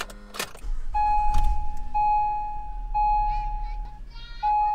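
An Acura MDX is switched on with a newly paired spare key: a brief rattle and thump, then a steady electronic warning chime repeating at regular intervals alongside a low engine or cabin hum, close and moderately loud.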